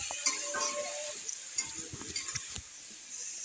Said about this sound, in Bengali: দিয়ে ওই শাকটার সাথে আমি কিছু সময় নাড়াচাড়া দিয়ে নেব।